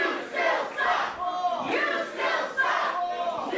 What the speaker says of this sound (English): And the boos are getting louder by the second